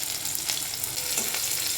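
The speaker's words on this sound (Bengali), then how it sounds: "তেলটার মধ্যে রসুন কুচানোগুলো দিয়ে দেবো" Chopped garlic with chopped green chillies frying in hot oil for a brinjal dish, a steady close sizzle with soft crackle and no talk.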